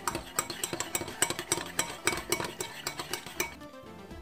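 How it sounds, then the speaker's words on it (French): A spoon clinks quickly and rhythmically against a bowl while mixing baking powder into oil for Moroccan msemen dough, bright close taps with no talking. "je vais venir ajouter une cuillère à café de levure chimique et bien la mélanger avec l'huile"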